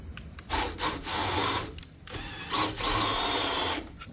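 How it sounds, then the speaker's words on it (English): A drill fitted with a socket drives a trailer quick-drop tongue jack, whirring in several bursts with short pauses between, fairly loud and close with a steady motor whine. "Now you could raise and lower the tongue jack with only a drill."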